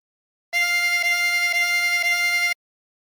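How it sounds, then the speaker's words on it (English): Drawn breath through hole 24 of a 24-hole tremolo harmonica gives a high, bright reed note pulsed four times over two seconds, with a shimmering tremolo, close and alone. "Breathe in through 24 times."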